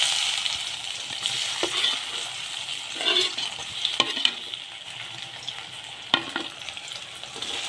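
Bitter gourd slices fry in oil with a close, constant sizzle, broken by several sharp scraping stirs and clinks of a spatula against the pan.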